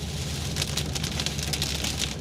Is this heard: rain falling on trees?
yes